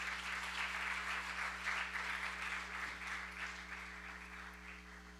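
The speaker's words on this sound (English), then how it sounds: "Can we just give another round of applause for Dr." Audience applause for Dr. Govind at a Q&A session, a steady mid-level wash of clapping lasting the whole stretch, with a constant low electrical hum beneath it.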